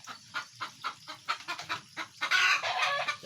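Chickens cluck in a series of short, repeated calls on a farm where pigs are raised, close and fairly loud, the clucking growing denser and busier toward the end, with no talk over it.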